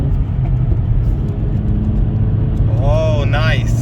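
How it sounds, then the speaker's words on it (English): A VW Golf V with a 1.4 16V engine pulls at full throttle in third gear, a loud, close, steady rumbling drone, with voices exclaiming over it near the end. "We are on the third gear. Let's see. Full gas."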